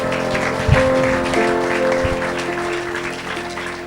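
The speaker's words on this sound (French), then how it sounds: "Acclamons le Seigneur." A church congregation claps together during a service, a dense, steady wash of applause filling the room, with a few sharper near claps and sustained background tones beneath it.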